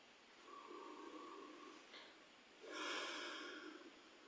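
Slow, soft breaths from a person during a guided breathing exercise, a quiet drawn-out exhale followed by a fuller, louder breath near the end, close and alone with no talking.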